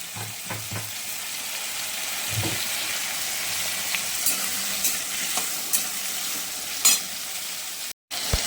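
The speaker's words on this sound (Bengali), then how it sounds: "চিংড়ি মাছটা ভাজা হয়ে এসছে।" Steady sizzling of prawns and spinach frying in a pan, with occasional stirring scrapes and clinks over a constant hiss.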